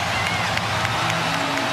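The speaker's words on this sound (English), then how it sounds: "the crowd starting to celebrate" Basketball arena crowd celebrating during a 2009 playoff game between the Lakers and Rockets, a dense steady roar of cheering and applause filling the space, loud and continuous throughout.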